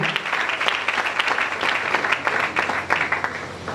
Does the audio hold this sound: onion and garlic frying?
no